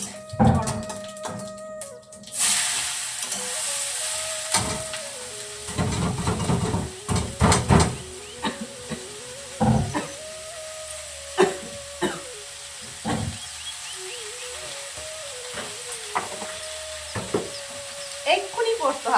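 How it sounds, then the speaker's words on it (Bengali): Potatoes frying in a hot kadai with bursts of hissing sizzle and scattered clanks of a utensil against the pan, interrupted by intermittent tonal household noise. "কড়াইটা গরম হয়ে গেছে আমি এখন ভেজে নিই আলুগুলো"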